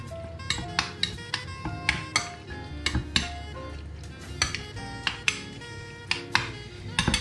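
A spoon scrapes and clinks against a bowl while avocado, shrimp and tomato salad is stirred, giving sharp, regular taps about every half second. The sound is close and fairly quiet, and no one speaks.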